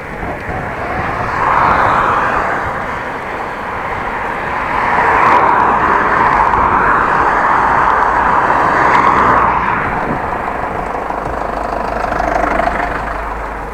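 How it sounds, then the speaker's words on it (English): Camper van engine running on a bike lane, a steady rumbling drone that swells and fades over about fourteen seconds, fairly loud and close with no talk. "What is this camper van doing on the bike lane?"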